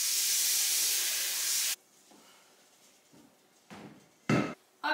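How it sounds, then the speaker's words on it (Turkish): Tap water runs hard into a bowl used for washing greens, a loud steady rush that stops abruptly, followed by a few quiet clinks and splashes of the bowl being handled. "Önce bir güzel suyla dolduruyorum."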